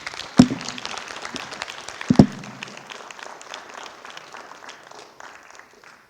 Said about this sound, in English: Everyone give them a round of applause, please.